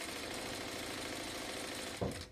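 A sewing machine stitches elastic into small doll shorts, running as a steady, close mechanical whir with rapid needle chatter for about two seconds, then a brief louder bump as it slows.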